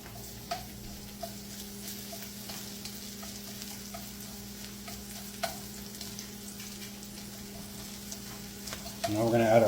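Onions and garlic sauté in a pan with a low, steady sizzle and occasional utensil clicks. A louder burst of stirring comes at the very end.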